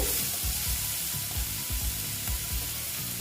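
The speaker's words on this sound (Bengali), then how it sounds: "রসুন আর পেঁয়াজটা ভালো মতন আমি ভেজে নিচ্ছি" Garlic and onion fry in a pan, a dense steady sizzle with soft rhythmic scraping from stirring mixed in, close and fairly loud.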